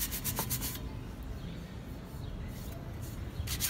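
Coarse 80-grit sandpaper scrubs an aluminum wheel rim in quick back-and-forth strokes, rasping bursts at the start and end with a quieter stretch between and no talk.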